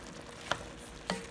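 A spoon stirs a pot of stewed chickpeas with sweet potato and kale, giving two distinct scraping knocks against the pot about half a second apart over a faint simmering sizzle, with no speech.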